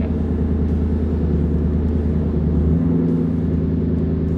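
A Ford Mustang GT idles steadily just after starting, a loud, continuous low rumble with a dense, even exhaust burble that shifts slightly in tone partway through and stays constant to the end.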